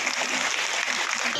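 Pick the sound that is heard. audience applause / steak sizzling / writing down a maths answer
audience applause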